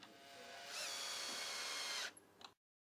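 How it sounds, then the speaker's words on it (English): A power drill whirs up and spins steadily for about two seconds, driving a screw into a retractable patio screen's track, then winds down and stops, close and clear. "Then fasten the track in place with a screw."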